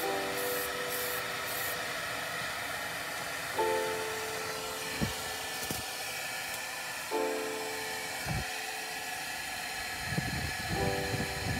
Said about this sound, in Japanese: クリアスプレーを振ります。ここもアクリルリペアラッカーでいきます。